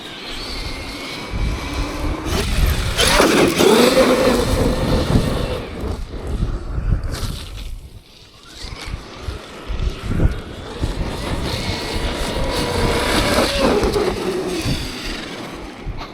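A Traxxas X-Maxx 8S RC monster truck bashing over rough ground, its electric motor whining loudly and steadily, surging up and down as it accelerates and jumps, with a short lull in the middle.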